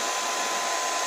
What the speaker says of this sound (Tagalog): Diba? Masarap ma-blower.